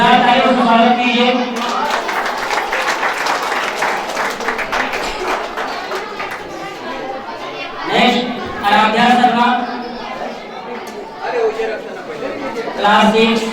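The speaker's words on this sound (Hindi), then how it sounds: "जोरदार तालियों से स्वागत कीजिए।" Scattered clapping welcomes students receiving awards at a school prize ceremony, with a crowd chattering and a voice talking over the uneven applause, which swells in short bursts.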